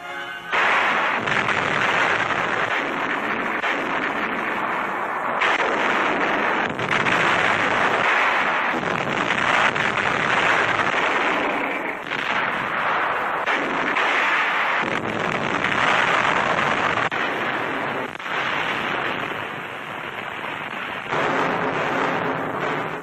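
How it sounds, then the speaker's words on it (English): Russian heavy artillery bombards Novorossiysk in a 1943 wartime newsreel, a dense, continuous roar of gunfire and explosions with rapid overlapping blasts, loud and unbroken throughout. "Russian heavy artillery bombards Novorossiysk for 4 days and nights."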